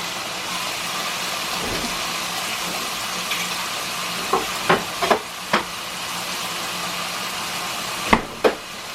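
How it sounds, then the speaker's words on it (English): A pork chop fries loudly in butter in a pan, a steady broadband sizzle running throughout, with a few sharp pops and utensil clicks near the end and no talking. "Y'all may not even be able to hear me over the pork chop screaming at us."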